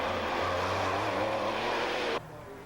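Red Porsche rally car finishing a rally stage, a loud steady engine roar close by for about two seconds before cutting off sharply, leaving faint background noise.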